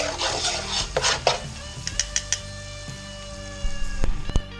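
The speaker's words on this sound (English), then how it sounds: "take a pair of metal tongs and scrape it across a Teflon wok" Metal tongs scraping and clinking across a Teflon wok, a series of sharp metallic scrapes and taps at irregular intervals, close and fairly loud, with a ringing tonal resonance between strikes.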